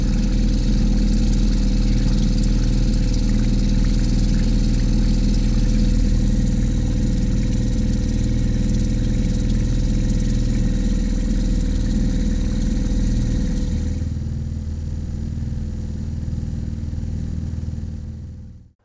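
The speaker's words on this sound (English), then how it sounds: "My little auxiliary outboard goes better at a slow pace than the main outboard" A small auxiliary outboard motor on a boat on a Scottish loch, running steadily at slow speed with a constant low droning hum, then easing down near the end.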